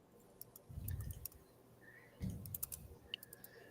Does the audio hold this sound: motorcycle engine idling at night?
no